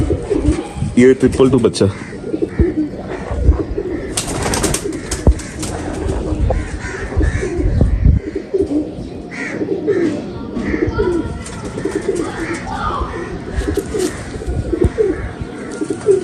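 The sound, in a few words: pigeons cooing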